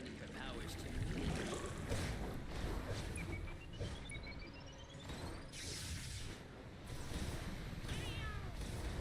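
A cat meows in DC Universe Online during the Witching Hour Halloween event, with rising whistle-like tones over steady game ambience, water and a speaking voice.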